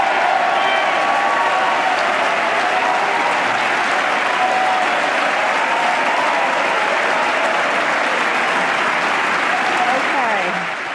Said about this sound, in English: that got some of the biggest applause of the night